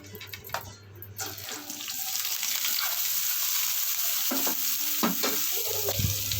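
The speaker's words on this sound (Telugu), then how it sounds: "కొంచెం ఆయిల్ పోసుకోవాలి ఫస్ట్ మష్రూమ్ని ఒక ఐదు నిమిషాలు వేయించుకోవాలి" Mushrooms fry in oil in a pan, a steady close sizzle that swells after a brief start, broken by a few scraping stirs of a spoon.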